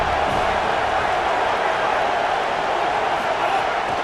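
Stadium crowd in a college football video game, Buffalo against Penn State, gives a steady, dense roar of murmuring fans that carries on without a break beneath a commentator's voice.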